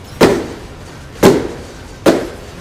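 Three loud, close firework bangs in a video game arrive about a second apart. Each is a sharp crack that fades quickly into a brief rumbling tail.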